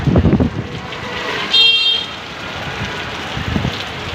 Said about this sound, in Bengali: ঢাকা শহরে কি বৃষ্টি